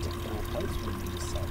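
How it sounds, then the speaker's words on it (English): Water drains down a basin plughole near the equator with a soft, continuous gurgling pour, close and moderately quiet. "find that the water goes down the plug hole in a clockwise"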